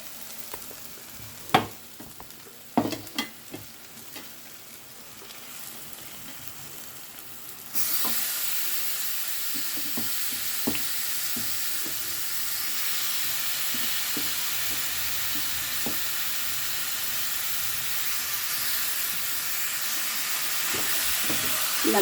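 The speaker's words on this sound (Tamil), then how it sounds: "இப்போ நாம் சிக்கன் துண்டுகளை போட்டு நல்லா எண்ணெயில் மசாலா வதக்கிக்கலாம்." Chicken pieces hit hot oil with masala in a pan. A few sharp clatters come first, then a loud, steady broadband sizzle runs to the end with small scrapes mixed in, and no one speaks.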